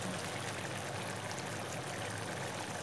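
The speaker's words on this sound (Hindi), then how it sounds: "अब इसमें करते हैं जी ऑयल।" Cooking oil poured into a hot, dried-out pot over a high flame, giving a steady, broad pouring and sizzling hiss that holds evenly throughout at moderate loudness with no talk.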